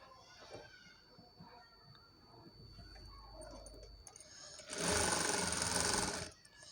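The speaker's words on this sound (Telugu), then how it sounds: "మళ్ళీ దీనిపై నుండి ఒక స్టిచ్ అయితే వేసేసుకుందాము." A sewing machine runs a short, loud, steady burst of stitching near the end while sewing piping onto thin saree cloth, preceded by quiet handling noise.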